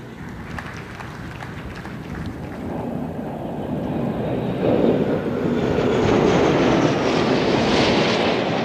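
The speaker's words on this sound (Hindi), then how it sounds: "ध्वनि की दुगनी गति से उड़ने में सक्षम आसमान को चीरते आ रहा है MiG-29 के लड़ाकू विमानों का यह दस्ता" A formation of MiG-29 fighter jets passes overhead at the INS Vikrant commissioning ceremony in Kochi, a broad, rushing engine roar that swells steadily louder as the aircraft approach, with no voices over it.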